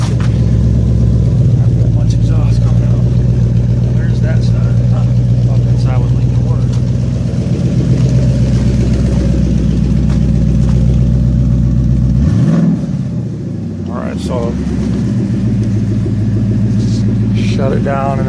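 A Mustang engine idles loudly up close with leaking exhaust cutouts, a deep continuous rumble that dips briefly near the end before settling back, with a voice talking over it.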